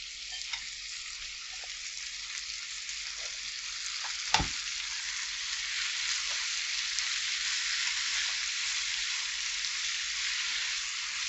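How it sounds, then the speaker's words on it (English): Spinach fries in a pan with a steady, close hiss of sizzling oil, joined by a single sharp knock partway through and continuing evenly without speech. "Just fry this like 2-3 minutes"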